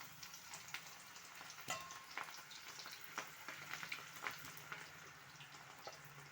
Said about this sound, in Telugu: ఆయిల్ అయితే కాగింది పకోడీని అయితే ఇలా వేసుకోవాలి